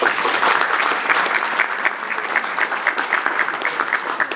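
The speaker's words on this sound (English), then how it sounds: "Let's give him a big round of applause." An audience at a summit in Bucharest gives sustained, enthusiastic applause: thick continuous clapping filling the room, with a faint hint of voices beneath it.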